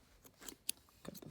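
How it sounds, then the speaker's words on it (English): Scissors snip thread while a boned bustier is sewn, giving a few short, crisp cuts at close range with faint background noise. "Cut the thread,"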